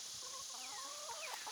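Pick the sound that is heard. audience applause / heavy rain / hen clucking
hen clucking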